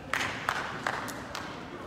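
At a student Mass, a congregation claps a few times, each clap a single sharp collective smack, with short gaps between them and a faint echo in a large room.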